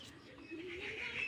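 Malbai pigeons coo softly in a short, faint burst, a low rolling call heard alone with quiet background.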